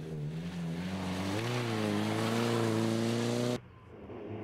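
A Mini Cooper MK2 rally car on a classic road event, its engine droning loudly and rising in pitch as it accelerates close by, then cutting off abruptly near the end.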